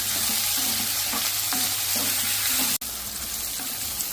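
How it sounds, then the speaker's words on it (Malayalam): Squid frying in a pan for a Kerala-style roast, loud continuous sizzling with rhythmic stirring scrapes close by, briefly broken by a sharp dropout. "ഇത് നല്ലോണം ഒന്ന് ഫ്രൈ ആയിട്ട് വരട്ടെ"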